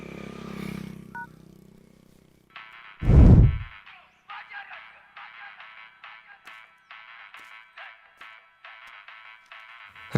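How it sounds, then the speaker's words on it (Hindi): A phone rings with a repeating electronic ringtone in steady short bursts, after a brief clatter and a loud thump. "राजा अपना फोन यहीं छोड़ गया।"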